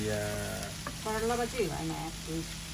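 Bitter gourd and pumpkin pieces fry in oil with a constant soft sizzle running underneath a person's nearby voice, which sits over the hiss throughout.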